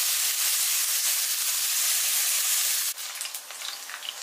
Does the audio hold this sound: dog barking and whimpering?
no